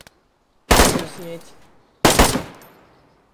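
Two loud, sharp bursts of suppressed gunfire from DayZ, each a single crack trailing off into a short decay about a second and a half apart, with a brief spoken phrase between them.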